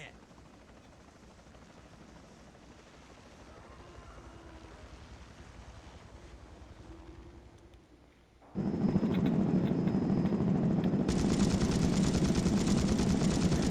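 A helicopter in the video game The Thing, a low rotor drone that jumps abruptly louder partway through and stays steady and close to the end, with voices talking earlier.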